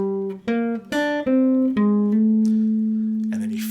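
A jazz guitar phrase slides from the flat nine up to the ninth: a few picked notes, then a gliding sustained tone that rings out, close and clean, with a faint voice near the end.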